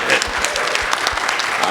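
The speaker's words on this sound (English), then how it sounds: "Let's see if we can get a round of applause for Tony." A peer-support gathering gives Tony from Cleveland a round of applause. Brief, steady clapping from a modest group, close and moderately loud, with some individual claps standing out.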